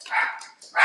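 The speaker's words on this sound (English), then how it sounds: "So y'all get to hear my doggy alarm system going off." A dog barks at a husband arriving home, two bursts of loud, close barking with a brief pause between them.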